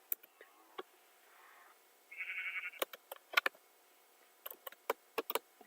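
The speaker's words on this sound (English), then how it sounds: "I hear sheep." A brief, faint sheep bleat in Minecraft rises among scattered clicks and taps, with sparse soft noises before and after it.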